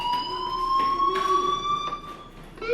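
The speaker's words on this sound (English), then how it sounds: "Hey, do you hear that fire alarm?" A fire alarm in the video game Life Is Strange blares in a continuous electronic tone, loud and close, with brief pulsing bursts layered over it.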